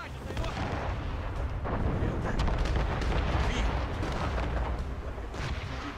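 Broadside cannon fire from sailing warships in the Assassin's Creed Rogue video game, a dense rumbling barrage of booms and blasts that keeps going for several seconds at close range, with no speech over it.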